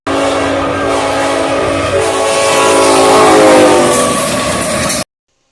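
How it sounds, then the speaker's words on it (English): Loud, sustained CN 3008 locomotive horn, a Nathan K5HLA five-chime, blaring continuously for about five seconds with rich layered tones, close and alone before cutting off abruptly. "here is an example of what 3008's horn is"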